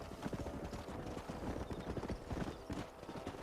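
Horse hooves clop in rapid galloping rhythm across open ground in Red Dead Redemption, a dense, continuous patter of fairly quiet footfalls with no pause.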